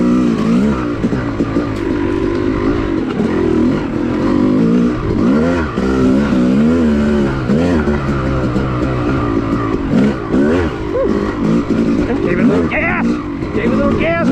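Off-road vehicle engine revving and surging on a sandy OHV cycle trail, loud and continuous with wind rumble, a voice talking over it.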